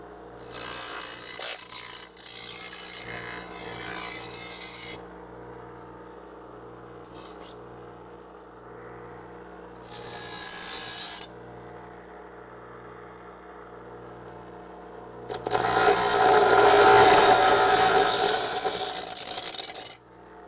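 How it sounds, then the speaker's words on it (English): A bench grinder takes a metal burr off a car part during a Charger restoration. It gives loud harsh grinding bursts of a few seconds each, with quieter machine hum between them and a final long pass, and no talking. "I'm going to get that off with my, just get it off of the bench grinder real quick."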